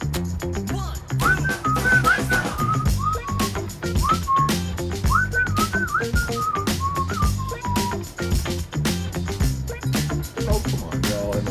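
Pet budgies whistle in a bright, warbling stream of rising and falling notes, close and lively, over a busy background of chirps and clicks.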